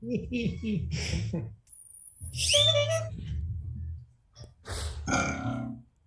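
Cartoonish fart sound effects in the Laughfinder party game, several loud blurts and rumbles in bursts separated by short gaps, close and unmasked.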